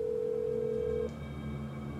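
A telephone voicemail tone in the Blair Witch video game, a steady electronic beep holding for about a second before cutting off, leaving a quiet hum underneath; no talking.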